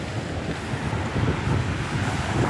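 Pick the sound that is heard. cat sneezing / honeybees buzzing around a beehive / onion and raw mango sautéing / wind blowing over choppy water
wind blowing over choppy water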